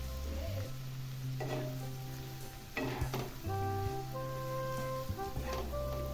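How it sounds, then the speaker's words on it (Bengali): Onions fry in a pan after salt goes in, a close, continuous sizzle broken by a few scraping stirs and utensil knocks, with faint tonal hums in the background. "লবণ দিয়ে একটু নাড়াচাড়া করে নিলাম"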